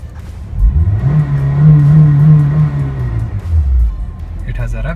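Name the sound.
Honda CR-Z engine starting and revving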